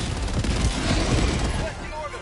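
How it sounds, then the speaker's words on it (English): A mech exosuit in the Helldivers video game launches a dense volley of missiles, producing a loud, continuous roaring barrage of blasts for about two seconds that tails off, with a brief voice near the end. "Shoot your missiles."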